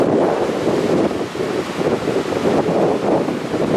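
Strong wind roars off a waterfall in the soaking spray zone at Jasper National Park, a loud, steady, broadband rush buffeting the microphone throughout, with no voices.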